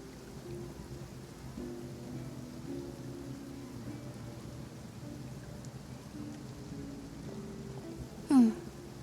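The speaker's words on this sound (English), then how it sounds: "it's raining." Light rain falls steadily in the Fontaine region of the video game Genshin Impact, a soft, faint hiss under quiet low game music, ending with a brief bright chime.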